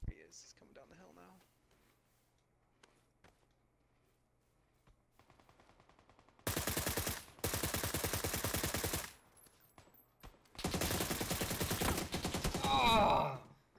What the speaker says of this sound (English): Headshot me with an AUG